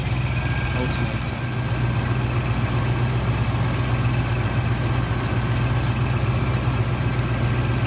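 Rover SD1 V8 idling steadily with the alternator under load from headlights and blower, a low, even engine hum running close and constant throughout, with a voice speaking briefly over it.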